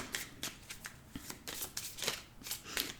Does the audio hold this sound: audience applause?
no